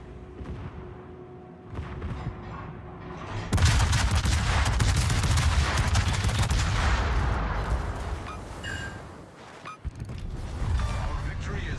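Naval gunfire in World of Warships, heavy booming salvos and rumbling blasts erupting loudly and layered with creaking mechanical sounds, continuing for several seconds before easing into scattered lighter shots.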